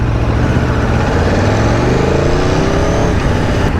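An Aprilia Tuono V4 Factory motorcycle runs close and loud, its engine humming steadily at low revs while riding, with a continuous rumble and a slight rise in pitch.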